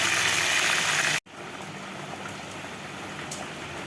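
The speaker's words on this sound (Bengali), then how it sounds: "আমি 6 টুকরো করে নিয়েছি আর আমি সব মাছগুলো একসঙ্গেই ফ্রাই করে" Pomfret fish, cut into six pieces, frying together in a pan with a steady, loud hiss and sizzle that breaks off for a moment and then carries on a little quieter.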